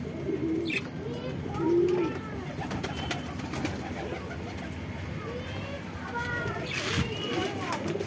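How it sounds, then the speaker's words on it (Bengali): Many pigeons coo in soft repeated low calls, some wearing leg bands with little bells, while voices talk nearby and faint chirps and jingles mix in. "কত পায়রা দেখো।"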